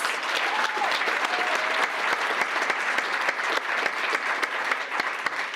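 Sustained applause from a seated audience at a realtor association's awards and installation ceremony, greeting the incoming board of directors and officers; an even, continuous patter of many hands from start to finish.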